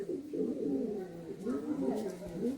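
Andhra pigeons cooing steadily at close range, a run of soft, throaty, overlapping calls that fill the whole moment without pause.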